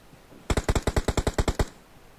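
A rapid burst of about a dozen sharp gunshots from an automatic weapon in PUBG Mobile, evenly spaced and loud, firing alone with no talk over it.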